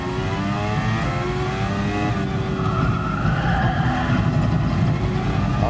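Racing car engine in a PS4 racing video game, loud and continuous, revving and accelerating with shifting pitch and a hint of tire squeal, steady throughout with no gaps.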